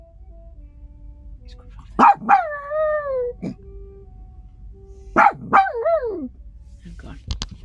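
A chihuahua howls and yips in two rising-and-falling bursts, singing along to jazz saxophone; a person speaks briefly at the start, and the dog's wavering cries stand out over a low background hum.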